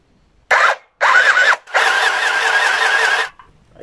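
A portable mini sewing machine runs in three bursts, two short and one longer, each a buzzing whir with a wavering motor pitch, close and fairly loud with quiet gaps between.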